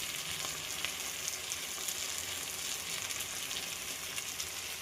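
Mutton kasha frying in a pan, a dense, even sizzle held close and steady throughout, with faint occasional stirring clicks and no talk.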